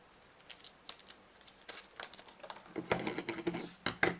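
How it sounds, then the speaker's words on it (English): Scissors or a blade slicing open the plastic packaging of a ribbon spool, a run of small clicky snips and crinkles that grows denser and louder toward the end, close up with no talk. "let's cut this open so you can see it"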